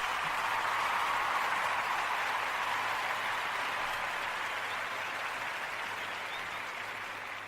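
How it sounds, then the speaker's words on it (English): Clapping for a man named Bob, a dense, steady round of applause lasting throughout and fading only slightly toward the end, with no talking. "Gotta give Bob some claps."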